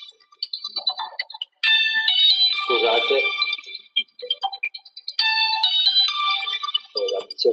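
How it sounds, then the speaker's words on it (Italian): Mobile phone ringing during an environmental planning webinar, a bright repeating electronic melody in two loud bursts with a pause between, while someone speaks over it. "C'è il cellulare."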